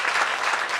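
Church congregation applauding the pastor at a Sunday worship service, a dense steady clapping throughout from a sizable crowd.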